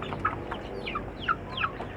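Free-range village chickens cluck in short, scattered calls, several birds close by over a constant low farmyard murmur.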